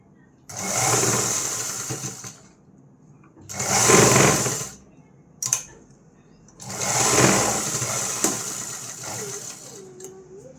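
A sewing machine stitches a kaja strip on a blouse in three loud, close bursts of rapid whirring and needle chatter, separated by quiet pauses with small handling clicks.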